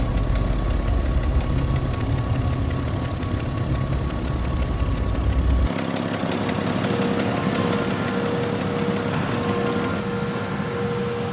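Heavy transporter trucks loaded with rice from the paddies drive toward a rice factory, a steady, loud diesel engine drone with rattling vibration that shifts in tone midway, continuous throughout with no talking.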